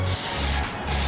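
Aerosol Plasti Dip sprays onto a motorcycle helmet in a steady close hiss, with a short break partway through before the spray resumes.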